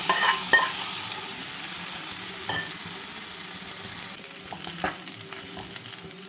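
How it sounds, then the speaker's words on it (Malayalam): Boiled tapioca hits a hot kadai and fries with a steady sizzle, a spatula scraping and stirring close by with a few sharp clinks. "കടായി ചൂടായപ്പോൾ നമുക്ക് കപ്പ എടുത്തിട്ട് കൊടുക്കാം."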